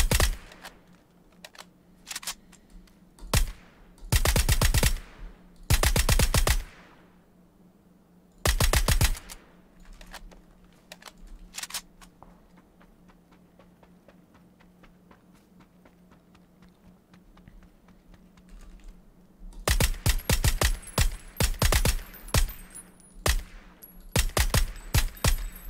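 VSS rifle fire in PUBG, short rapid bursts of crisp suppressed shots in several clusters separated by quieter stretches of ambient game noise.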